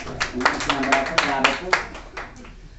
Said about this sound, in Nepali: ताली बजाइदिनु सबैजना।